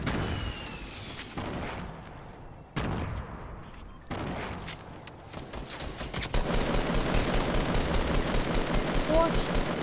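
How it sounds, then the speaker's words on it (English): Rapid bursts of gunfire in Fortnite Battle Royale, loud close automatic shots in several clusters with sharp onsets, building into sustained firing near the end. "I shot him like 10 times."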